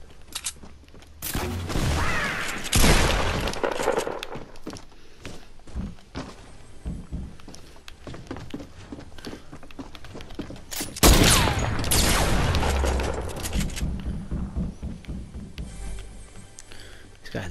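Video game gunfire comes in two dense, loud bursts of rapid shots, with scattered thuds and smaller pops in between.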